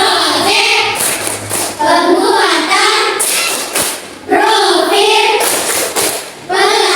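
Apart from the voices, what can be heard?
class clapping a rhythmic clap pattern (tepuk) while chanting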